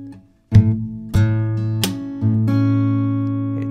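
Fingerstyle acoustic guitar playing a song: plucked bass notes and chords broken by sharp percussive slaps on the strings, in a steady, close, solo rhythm with ringing sustain.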